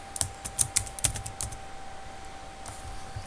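Website text is typed on a computer keyboard in a rapid burst of crisp, close keystrokes, which then thin to a few scattered taps.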